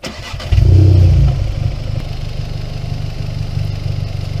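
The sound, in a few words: car engine starting and idling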